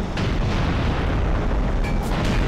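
An armored shell strike slams into an APC's front armor in the Graviteam Tactics war game, a loud, dense boom with heavy low rumble that sustains throughout, with a couple of sharper bursts near the end.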